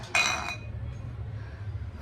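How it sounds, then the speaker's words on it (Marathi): Dishes and utensils rummaged in a home kitchen, one sharp metallic clink of a pot or plate near the start, followed by a low, steady background hum. "घरात पण भांडी खूप उचकापाचकी होतं"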